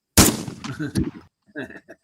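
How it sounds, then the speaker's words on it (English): Gunshot sound effect: a sharp, loud blast at the start followed by a burst of further rapid shots, then a brief silence and a few softer trailing reports. "That's a gunshot."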